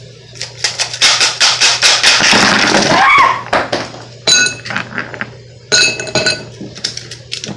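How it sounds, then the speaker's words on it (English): Ice cubes clinking and rattling in a Coca-Cola glass, with a dense run of bright taps followed by scattered sharper clinks after a short pause; close and loud. "after you get your ice in your Coca-Cola cup"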